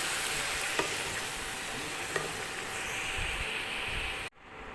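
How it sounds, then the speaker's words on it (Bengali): Steady, dense sizzling of pumpkin frying in a pan, a continuous crackling hiss with a couple of faint clinks, cutting off abruptly near the end. "এবারে এটা একটুখানি ভাজা ভাজা হতে দেবো"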